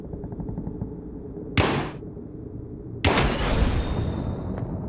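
Gunfire in the multiplayer horror game Horror Brawl comes as two loud bursts of shooting, a short one near the middle and a longer sustained volley afterward over a low background rumble.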